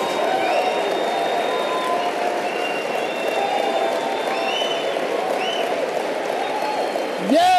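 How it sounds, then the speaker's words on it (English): An audience at a motivational talk claps, a sustained wash of applause at moderate loudness with cheering and scattered calls rising over it throughout. "Give yourselves a round of applause."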